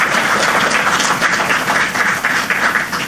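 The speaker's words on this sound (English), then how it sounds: "let us give you, the beneficiaries of the youth economy, a round of applause for taking that bold step." Loud, continuous applause from an audience at a youth economy investment forum, a thick, even roar of clapping sustained for the whole stretch without pause.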